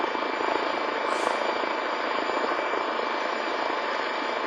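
Cirrus jet aircraft engine in the Simple Planes game, a steady, loud, broadband whooshing roar holding constant throughout.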